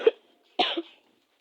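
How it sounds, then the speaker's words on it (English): Two short, close coughs from one person, the second one stronger and slightly drawn out, with silence between them. "The reason why I'm coughing is"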